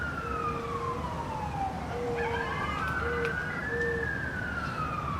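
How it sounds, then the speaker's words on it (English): An ambulance siren wails steadily as it passes by, its pitch sweeping down and then back up, loud and continuous over traffic rumble with no talking. "We could wait till the ambulance goes by"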